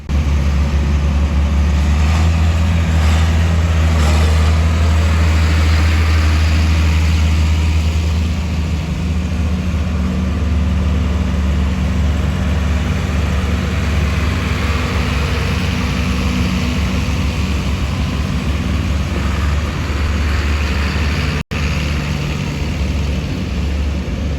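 Tractors at a tractor parade in Caledonia, New York, including a John Deere 4955, rumble with a steady low engine drone that runs unbroken and loud throughout.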